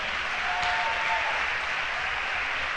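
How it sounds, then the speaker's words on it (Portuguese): Congregation applauding during a church service, steady dense clapping throughout at moderate loudness, with a faint tone briefly sounding underneath. "Quem pode aplaudir o Senhor?"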